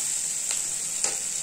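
Garlic and dry chilli powder with spices sizzle steadily in hot oil, a close, even hiss with two brief stirring scrapes partway through; no one speaks.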